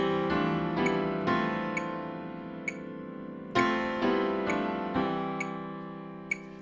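Piano chords played with the sustain pedal held, each new chord ringing into the last so the harmonies blur together into a wash.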